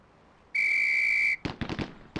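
In a police video game, a single sharp, steady whistle blast sounds for about a second, followed at once by a quick burst of loud, gunfire-like cracks.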